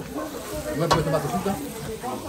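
Garlic hits hot fat in a pan while cooking a wild boar civet, giving a steady sizzling fry with a brief sharp burst of crackle near the start, stirring noises mixed in.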